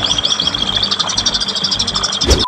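Barbets call in an aviary, giving a dense run of rapid, repeated chirps and tweets that carry on steadily throughout, loud and close, with no voices.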